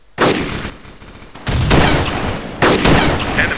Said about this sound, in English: When I open fire, to start opening up on them.